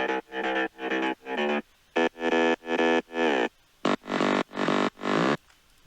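Separate synth mid bass layers for a progressive house track play one after another, each a short burst of buzzy, rhythmic notes with brief gaps between groups, some notes sliding in pitch, heard alone without any voices.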